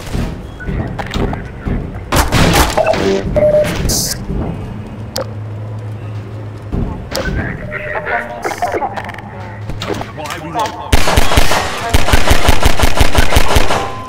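Half-Life 2 gunfire comes as loud, fast, close automatic bursts and single shots with thuds and mechanical clatter, ending in a long rapid volley. Voices talk over parts of it.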